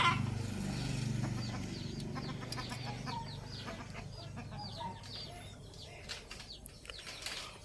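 Three-year-old Thai game fowl cluck and murmur at close range on a farm, with scattered short calls over low ambient rumble; no talking.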